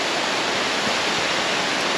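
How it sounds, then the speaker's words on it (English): A huge waterfall at Sungai Pandan in Kuantan, Malaysia, a steady, dense, full-band rushing roar of falling water, close and loud, with no voices. "It's a huge waterfall."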